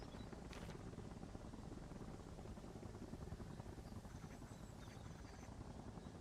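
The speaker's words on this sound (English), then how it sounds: "no, that's friendly. It's a supply helo." A supply helicopter's rotor drones steadily and continuously in the military video game Arma Reforger, a constant whirring rumble mixed with wind-like noise and no talk over it.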